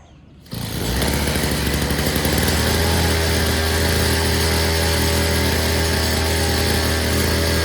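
A small, worn-out pocket bike engine with a fuel leak starts and runs steadily, a loud, buzzy two-stroke drone close by that holds an even pitch with no talk over it.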